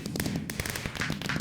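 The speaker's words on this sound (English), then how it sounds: "I love fireworks." Fireworks set off in Minecraft, Nether Update 1.16, firing a quick series of sharp crackling pops and bursts in steady succession with no voices.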